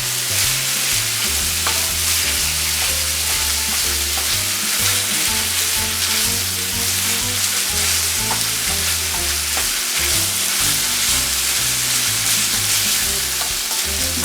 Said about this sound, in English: we're going to add onion and celery and let that cook with it.